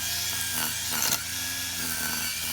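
A 40V battery pack slides off a cordless edger trimmer: a single plastic click and scrape near the middle, close and short, over a steady background hiss.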